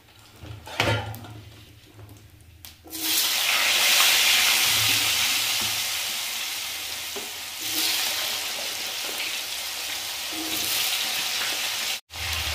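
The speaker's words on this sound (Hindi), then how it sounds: "और इसके बाद में हम आलू को डाल देते हैं तेल के अंदर" Potatoes dropped into hot oil with cumin and asafoetida: a few clinks, then a loud, sustained sizzle that slowly settles, with some stirring.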